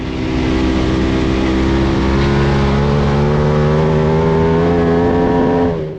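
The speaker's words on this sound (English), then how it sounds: "you can hear the throttle" A motorcycle engine revs hard and climbs steadily while accelerating out of a corner's apex on track, a loud continuous drone with rising harmonics that holds for about six seconds and cuts off at the end.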